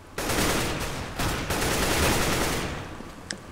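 Gunfire in Counter-Strike Global Offensive: a dense, loud burst of rapid shots that blur into a continuous roar, easing off toward the end with one last sharp crack.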